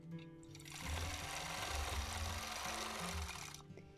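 Close by, a sewing machine quilts a mini quilt, stitching along the basting line near its edge in one sustained, fast, rhythmic run of needle clatter and motor hum that starts and stops cleanly.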